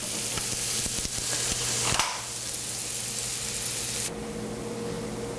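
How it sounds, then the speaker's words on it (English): Onions sauté in a hot pan, giving off a loud, steady sizzle up close, with a brief stir or clatter near the middle and no voices. "our onions have been sauteed"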